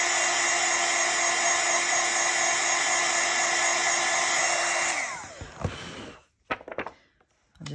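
A heat tool blows steadily and loudly while drying a handmade card, a constant whirring roar that cuts off about five seconds in, followed by a few small clicks and handling sounds.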